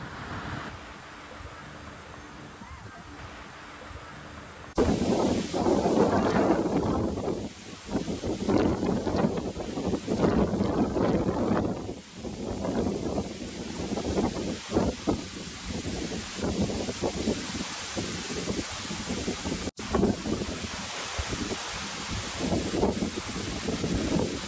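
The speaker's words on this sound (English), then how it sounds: "Nice breezy day, no humidity" Steady wind on a breezy, dry summer day near a beach buffets the microphone and rustles around, a loud, continuous roar that swells and dips with gusts, with no talking.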